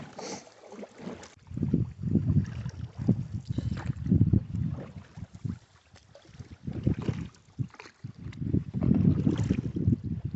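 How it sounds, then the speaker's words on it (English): Canoe ferry crossing the Kennebec River in Maine, with paddle strokes and water swishes coming in uneven bursts close to the microphone, plus some wind buffeting. "This is a canoe ferry."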